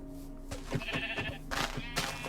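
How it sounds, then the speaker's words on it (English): Short Minecraft sheep bleats repeat amid game-like tones and chimes, several cries in quick succession over a busy electronic background. "I found this one gray sheep, immediately followed by another gray sheep and a chicken."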